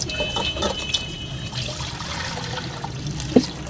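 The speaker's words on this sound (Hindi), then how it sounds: "ये जो दूध है कढ़ाई में डालेंगे" Milk being poured into a kadhai for carrot halwa, a soft liquid splashing and trickling noise with a faint background hum and a small clatter near the end.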